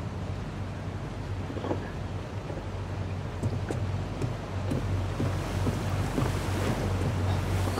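Ocean waves and wind surround a boat docking at sea in the game Tell Me Why, with a steady low engine hum beneath a constant rushing wash and faint knocks.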